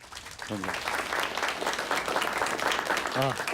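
A studio audience at a televised humanities lecture breaks into big applause to welcome the final talk, full, dense clapping throughout, with a voice briefly speaking over it near the start and again near the end.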